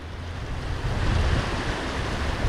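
Rushing water pours over a small spillway in a steady, loud broadband roar, close and continuous with no voices.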